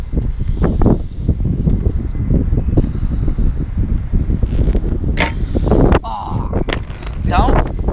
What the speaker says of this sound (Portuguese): Tá mais o vento e o frio agora.